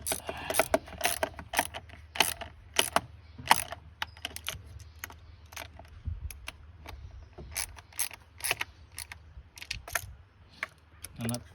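Bolts on the intake manifold of a 2015 Honda Fit being run down with a ratchet, giving rapid bursts of close, sharp clicking in uneven spurts, with occasional light metallic clinks between.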